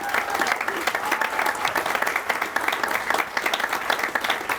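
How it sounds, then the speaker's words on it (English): A crowd at an outdoor Memorial Day ceremony at Fort Custer applauds warmly, dense sustained clapping from many hands throughout, moderately loud and steady. "let's give them a warm applause."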